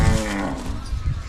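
A cow gives a single, close, loud low moo that trails off over about a second.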